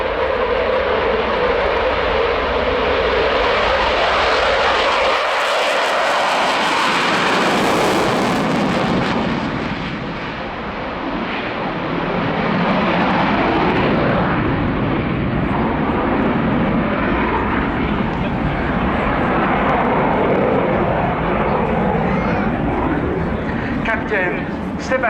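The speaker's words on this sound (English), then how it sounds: "And it's rolling now, the Dassault Rafale C." A French Air Force Dassault Rafale C fighter jet performs a solo display at an airshow, its loud continuous engine roar rising and sweeping past, with a brief dip before swelling again, and a commentator talking over it.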